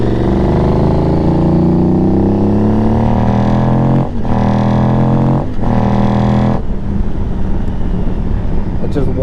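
An Aprilia Tuareg motorcycle engine with a Stage 3 tune roars close by, its pitch climbing through several revs with brief drops between gear changes, then settling into a rougher idle.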